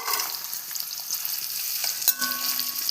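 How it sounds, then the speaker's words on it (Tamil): Cloves and onions fry in hot oil in a pan, giving a continuous close, crackling sizzle with a single sharp metallic clink partway through. No one speaks. "இப்போ கிராம்பு பொரிஞ்சதுமே எடுத்து வெங்காயத்தை போட்டுக்கலாம்"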